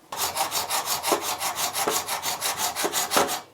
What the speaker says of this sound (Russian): Ножовка по металлу.